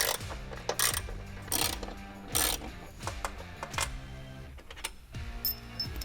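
A T40 Torx bit on a ratchet backs bolts out, with repeated rapid clicking bursts of the pawl and a faint metallic squeak, heard close and quiet in short spaced sequences.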